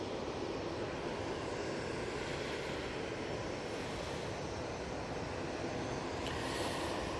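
An Emirates A380-800 arriving at Manchester Airport from Dubai gives a continuous broad engine roar. It holds steady and fairly distant across the whole stretch, with no voices.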